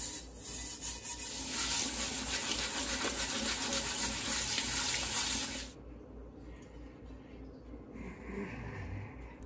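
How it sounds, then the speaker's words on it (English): Steady, close abrasive scrubbing works rust off the crevices of a vintage cast iron waffle iron, with a wet, gritty rasp running continuously before stopping abruptly, leaving faint low handling noise. "Getting the rust out of all of these crevices was a real pain."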